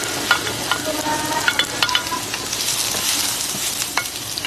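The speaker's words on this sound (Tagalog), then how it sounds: "Igisa muna natin ang bawang sibuyas na marami" Garlic and onion sauté in a hot pan for a Filipino snail-in-coconut dish, a steady bright sizzle with scattered crackles and stirring scrapes, close and continuous, no talk.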